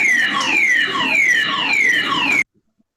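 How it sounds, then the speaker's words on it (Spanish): A civil protection audible alarm in a building gives loud, repeated falling electronic sweeps, about four in a row, then cuts off abruptly into silence. "esa es la alarma sonora"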